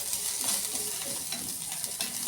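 Finely chopped large onion sizzles steadily in hot oil while being stirred, a dense continuous frying hiss with faint scraping underneath, close and fairly loud.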